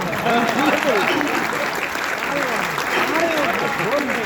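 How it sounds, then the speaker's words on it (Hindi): An audience at a Hindi poetry recital claps loudly and continuously, while someone speaks over the applause. "ताली बजा दो।"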